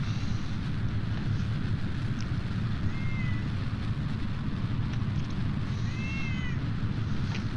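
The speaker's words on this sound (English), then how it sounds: "that's a cat that wants to watch the screen" A pet cat meows near a computer, two or three short rising calls over a steady low hum, faint and indoors.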